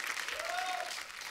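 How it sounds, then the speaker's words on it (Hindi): A brief burst of applause from a TV comedy show studio audience for actress Sara, steady and fairly subdued, with a faint tonal sound gliding through the middle. "जोरदार तालियां सारा के लिए"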